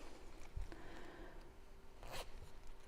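A zipper handled on the sewing table while a fabric pouch is made, with faint, quiet rasps and rattles, one brief zip burst near the end, and no talking.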